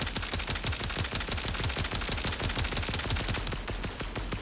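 Rapid, continuous automatic gunfire from a Warframe firefight, dense repeated shots hammering without pause, loud and close throughout.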